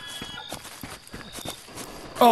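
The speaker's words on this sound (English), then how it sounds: "I hear more footsteps than just my own" Footsteps thud in a horror video game set in a state park, a steady series of soft, muffled steps repeating about twice a second, ending in a sudden louder burst.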